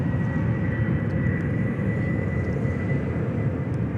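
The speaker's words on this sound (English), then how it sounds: "Qantas 73 on the roll here, 34 right." A Qantas passenger jet on its takeoff roll at Sydney Airport, a steady broad roar of engines heard from a distance, continuous and even for the whole stretch.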